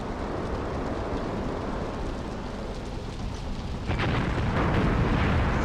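A vehicle in the Graviteam Tactics wargame explodes after an artillery hit, giving a sustained roaring rumble that swells louder partway through with crackling debris and no talking.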